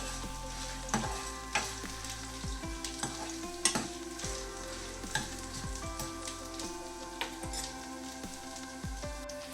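Oil sizzling steadily in a pan for palak chutney as spinach goes in, with a dense continuous crackle and a few louder clatters of stirring scattered throughout; no one speaks.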